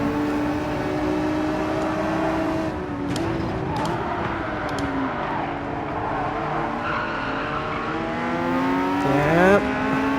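A Porsche race car's engine drones loud and steady at high revs, its pitch rising and falling through the gears, with brief tire squeal near the end.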